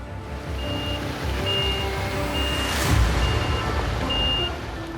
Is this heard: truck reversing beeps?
yes